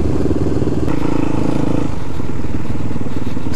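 A group of supermoto motorcycles riding through a concrete tunnel, a loud continuous engine roar echoing and filling the space with a dense, steady drone.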